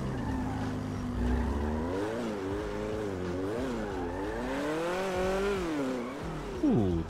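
A Ferrari 488 in GTA 5 drives with its engine revving up and down in wavering sweeps, ending in a brief rising squeal, loud and continuous with no talk.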